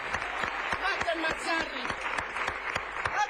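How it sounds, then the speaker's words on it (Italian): Audience at a sports comedy show applauds, a dense run of sharp hand claps that carries on throughout, with some voices mixed into the noise. "ma vogliamo fare un applauso vero al grande Roma!"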